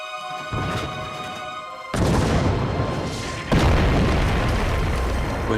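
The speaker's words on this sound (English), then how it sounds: "gas shells explode in front of him" World War I gas shells explode in a muddy battlefield, heavy booms arriving in three distinct blasts, each followed by a rumbling, crackling roar that fills the scene.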